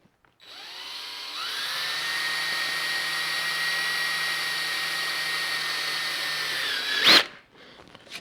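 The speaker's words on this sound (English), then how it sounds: "And then we're going to drill this hole right here." A power drill whirs steadily and close for about six seconds while boring through a plastic panel on a Honda Gold Wing, then winds down with a brief squeal.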